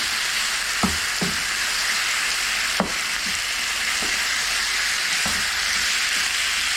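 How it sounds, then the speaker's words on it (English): Pork and garlic fry in a pan with a loud, steady, dense sizzle throughout, broken by a few sharp knocks and scrapes as the meat is stirred and turned, up close with no talking. "get the pork browned all over if you can"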